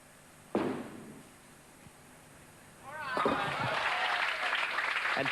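A Queensland crowd at Logan City Lanes applauds a picked-up spare in a ladies tenpin bowling match; one sharp knock comes first, then clapping rises midway and continues loudly to the end.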